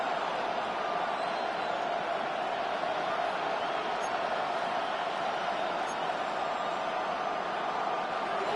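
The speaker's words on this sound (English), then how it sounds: "The crowd making their presence felt." A football stadium crowd at a conference championship game roars as a steady, broad wash of noise that holds constant throughout, with no distinct cheers or chants standing out.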